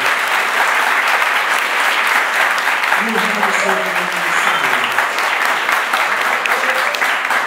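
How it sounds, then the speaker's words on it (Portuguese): A church congregation at an adolescents' festival applauds loudly and continuously, a dense wash of clapping that lasts throughout, with faint voices rising beneath it midway. "Quem concorda, aplauda Jesus Cristo."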